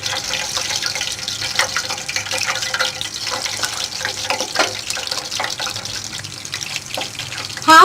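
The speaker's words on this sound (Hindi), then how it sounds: "हाफ मून ब्रेड तैयार हो चुकी है, अब हम इसे फ्राई कर लेंगे।" Half moon chicken breads fry in hot oil over a low flame, giving a continuous close sizzle and crackle with fine bubbling that holds steady throughout.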